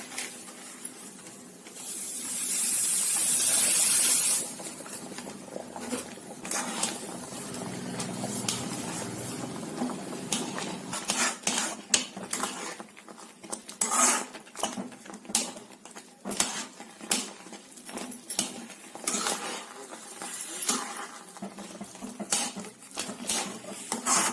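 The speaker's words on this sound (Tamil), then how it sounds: "இப்ப தண்ணி கொதிக்க ஆரம்பிச்சிட்டு இப்போ வறுத்து வச்சிருந்த ரவைய கொட்டிக்கலாம்." A burst of hissing and bubbling as roasted semolina is poured into boiling water, followed by steady scraping and clinking of a spoon stirring in a pot.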